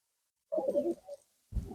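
Pigeons in a dovecote give a single soft, close coo after a brief silence, followed by a burst of low rustling.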